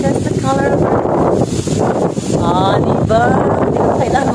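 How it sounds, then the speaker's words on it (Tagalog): Strong outdoor wind buffets a microphone with a loud, constant rumbling roar, while someone talks over it. "Today is so windy."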